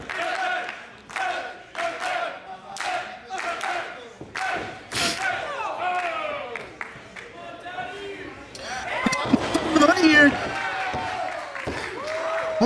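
A professional wrestling crowd chants and claps in a steady rhythmic beat, then swells into cheering and shouting; the arena noise is moderately loud with commentators talking over it.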